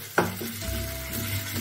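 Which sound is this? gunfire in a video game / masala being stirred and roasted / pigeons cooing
masala being stirred and roasted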